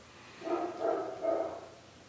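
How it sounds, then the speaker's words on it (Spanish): A nearby dog gives three short, moderately loud barks in an evenly spaced sequence, alone with no talking over them. "Ahí está el perro al lado saludando."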